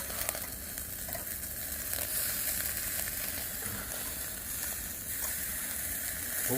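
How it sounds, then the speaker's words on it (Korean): Pork belly sizzling steadily on a grill over a charcoal fire, a soft, even crackle close by, nobody talking. "저 고기 굽는 소리가 참 좋아요."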